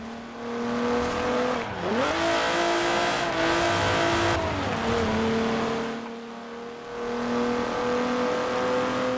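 A car engine in the racing game Forza Horizon 4 revs steadily on a hill climb, dipping briefly around a gear change then holding a loud continuous drone with faint tire noise.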